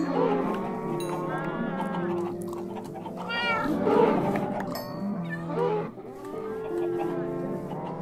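Cat meowing in Minecraft, several tonal meows spread through the stretch alongside cow-like moos and other farm-animal calls, fairly close and loud, with no speech over them.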